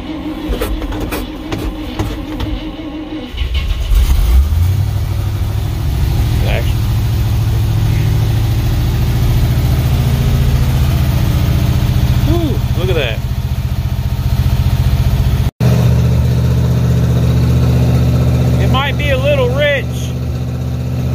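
A 1968 International Loadstar truck engine cranks and catches on a cold start, then settles into a steady, loud low rumble at idle, with people talking over it.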